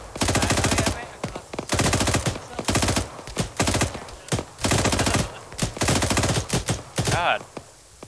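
Machine gun fire in Arma 3, with loud, close, rapid bursts of automatic shots repeating in long and short strings separated by brief pauses, ending with a falling whine.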